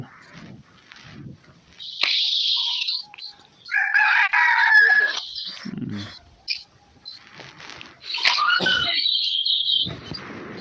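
Chickens cluck and a rooster crows in a few loud, drawn-out bursts, close by, with short quiet gaps between calls and faint voices now and then.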